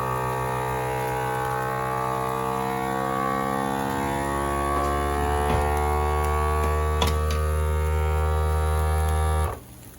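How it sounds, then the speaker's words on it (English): A steady, loud mechanical drone with strong hum from a vacuum sealer pulling vacuum on a food bag, running continuously, then cutting off abruptly near the end. "See, it's starting to pull a nice vacuum on that bag."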